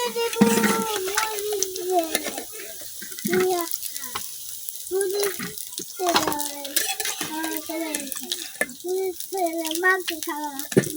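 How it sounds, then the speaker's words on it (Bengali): Papaya pakora fritters deep-frying in hot oil while being turned over, with a steady sizzle and scraping clinks of a utensil against the pan, and a voice talking over parts of it. "আমি উল্টায় পাল্টায় ভাজা নিচ্ছি।"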